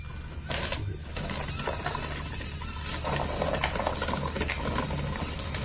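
A mini RC crawler's wheels fight for grip, giving a close whirring motor whine with patters and scrabbling clicks as the tires slip, steady throughout with no talking.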